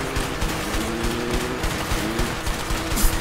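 Gunfire in the video game A Way Out: dense, continuous bursts of shots and rattling fire fill the whole stretch at a steady, loud level, with a sharper crack near the end.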